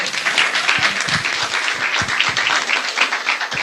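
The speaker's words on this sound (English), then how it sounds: "Y'all clap it up." An audience at a money and finance workshop in Miami claps steadily, a dense, even patter of many hands close by with no pause for several seconds.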